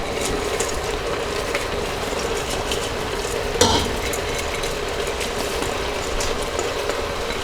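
Soaked, drained rice is mixed into simmering lentils for mujaddara, a steady dense hiss of cooking beneath the scrape of a spoon, with one louder knock against the pot midway.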